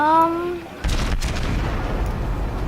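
Naval guns on the cruiser Königsberg firing armor-piercing shells in World of Warships, a single heavy boom that hits abruptly and rolls on as a loud rumble after a short spoken word.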